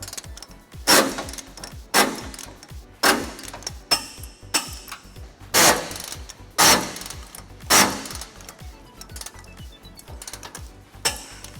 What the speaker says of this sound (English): We're going to be using a 19mm socket to tighten all those down.